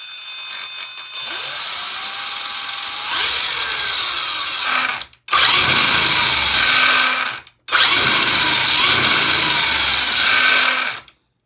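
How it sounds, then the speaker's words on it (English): A Castle brushless motor in a Ryft RC vehicle spins up with a loud, rising electric whine, runs in three sustained bursts, and cuts out sharply between them. "Definitely going to have the Castle whine to it for sure."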